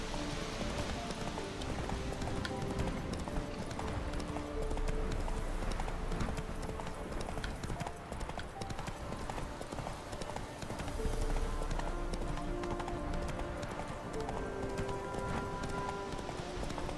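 Geralt's horse Roach galloping in The Witcher 3, a steady, close, rhythmic clip-clop of hooves that runs continuously throughout, with a voice speaking briefly over it.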